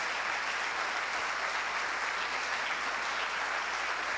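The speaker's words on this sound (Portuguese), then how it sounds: "Aplauda, por favor." Sustained applause from a church congregation, a dense steady wash of clapping that fills the whole stretch at even loudness.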